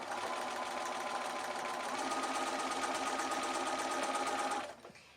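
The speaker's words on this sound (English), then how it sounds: "And I'm going to start off the quilt and stitch onto the quilt." Close up, a sewing machine stitches binding onto a quilt in one steady, rapid run of rhythmic mechanical chatter, loud and unbroken, then winds down and stops in the final moment.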